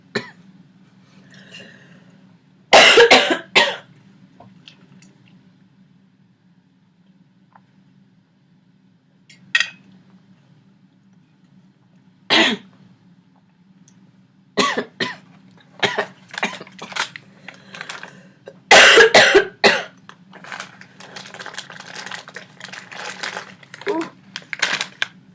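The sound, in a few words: coughing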